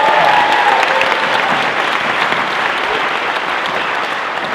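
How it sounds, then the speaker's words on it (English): A large indoor crowd at a motocross team introduction applauds and cheers steadily, a dense roar of clapping and shouts that holds loud throughout. "Easy way to get some cheers in this building."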